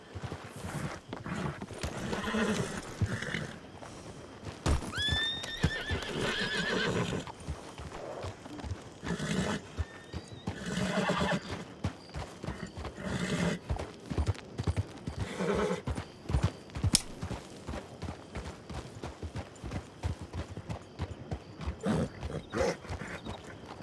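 Horse hooves clip-clop in a steady, uneven walking rhythm, with a brief whinny early on and occasional game sound effects mixed in.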